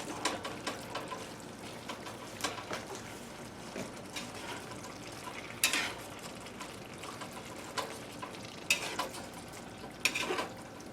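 A macaroni, beef and tomato mixture being stirred in a skillet: a soft, wet, steady churning with a faint simmering hiss and a few louder scraping clinks of the spoon, quiet and close, with no talking.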